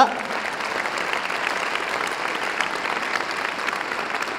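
Church congregation applause fills a worship hall at a Vision Weekend service, continuous crowded clapping holding steady from start to end, with some cheering voices blended underneath.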